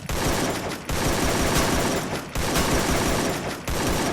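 Rapid automatic gunfire in the shooter game Free Fire rings out in three dense, loud bursts separated by brief pauses.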